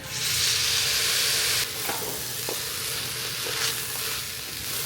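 Green beans, carrot and green peas fry in hot oil for vegetable pulao, a steady close sizzle with a few soft stirring scrapes, loudest at first and then settling to an even hiss.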